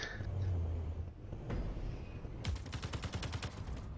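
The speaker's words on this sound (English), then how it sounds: "They have a Gatling gun on that." A ship-mounted Gatling gun in a space video game rattles off a fast, even burst of shots in the second half, preceded by quieter in-game engine rumble and a single sharp report.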